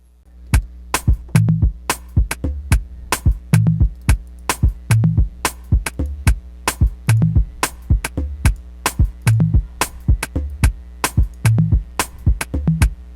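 A complete programmed Afrobeats drum pattern with an accented rim shot loops steadily, crisp percussive hits over a repeating low bass-drum pulse, loud and close with no voices.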